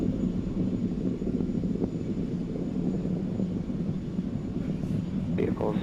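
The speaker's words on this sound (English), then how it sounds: "Falcon 9 has cleared the tower and is now headed upward on its mission to sun-synchronous low Earth orbit." A SpaceX Falcon 9 rocket climbs away after clearing the tower on a SmallSat Express mission to sun-synchronous orbit, its engines a steady, distant low roar with wind rumble that holds for several seconds.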